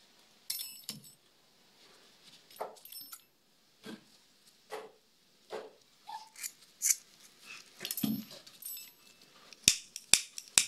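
Scissors cutting twine thread for a crochet bag, a handful of separate sharp snips and crisp metallic clicks with short pauses between them, close up and clear, with no talking.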